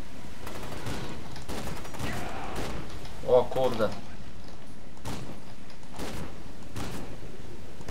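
Gunfire from the video game F.E.A.R. 2: Project Origin rings out in scattered sharp bursts spread across the stretch, with a man briefly exclaiming over the action.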